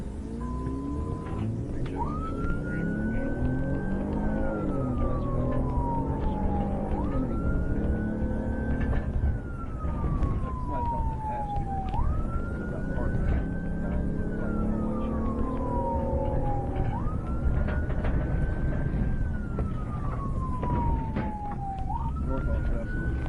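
Police car sirens wailing repeatedly during a high-speed chase after a Corvette, each rising-and-falling cycle sweeping about every five seconds over steady road and engine noise, with speech underneath.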